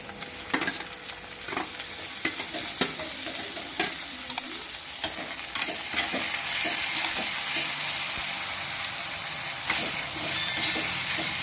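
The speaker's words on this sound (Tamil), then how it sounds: "தக்காளியும் வெங்காயமும் நல்லா வதங்கி வரட்டும்." Chopped onions and tomatoes fry and soften in a pan for a Tamil-style chicken masala, giving a steady close sizzle with occasional stirring scrapes and no talking.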